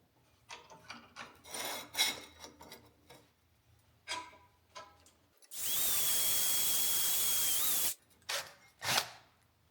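Power drill with a tap drill bit boring a hole through a metal plate for a homemade sandblaster tumbler, short bursts of whirring and grinding followed by one sustained, loud, high-pitched drilling run of about two seconds, then brief follow-up bursts.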